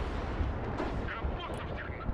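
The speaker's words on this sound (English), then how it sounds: "So what I'm going to do is do a creeping barrage there." Artillery barrage booming in the war game Broken Arrow, a dense rumbling wash of distant heavy fire with repeated low thumps, heard under a voice.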